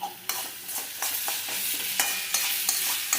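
Ginger paste sautéing in a pan, a steady broadband sizzle broken by repeated scraping stirs of a spoon at roughly half-second intervals, close and moderately loud, with no voices.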